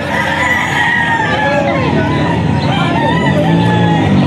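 Lemon Sweater gamefowl rooster crowing loudly and close at a game farm, a long continuous cry that fills the whole stretch, with other fowl and faint background voices mixed in.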